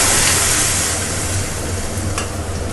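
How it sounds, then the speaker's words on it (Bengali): Boiled dal pours into hot tempering in a kadai, a loud, dense sizzle that holds steady under stirring, with no talking. "সেদ্ধ করা ডালটাকে আমি কড়ায় দিয়ে দেবো।"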